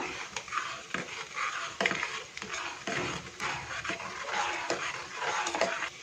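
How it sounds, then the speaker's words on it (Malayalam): Pesaha milk being stirred in a pot in one direction, with soft, continuous scraping and swishing and occasional light metal clinks, close and steady throughout. "ഒരു വശത്തേക്ക് മാത്രം ഇളക്കി കൊടുക്കുക"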